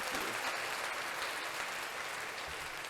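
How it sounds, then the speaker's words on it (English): Steady applause from an audience, a dense even patter of many hands clapping, fairly faint and continuous without talk. "I gave myself a round of applause right there."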